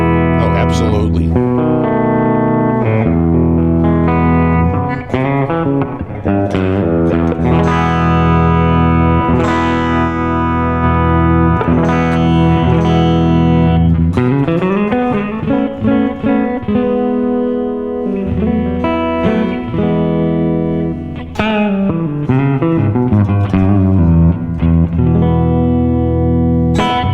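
A Sterling by Music Man John Petrucci JP150D FM electric guitar played through an effects chain with distortion and reverb, loud sustained chords and melodic runs ringing continuously with no talk.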